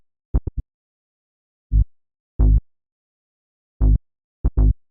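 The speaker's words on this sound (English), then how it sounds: "this is the most basic bass that you can make" Self-made synth bass line built from a few harmonics, short plucky low notes in a sparse, syncopated pattern with silence between hits, clean and close.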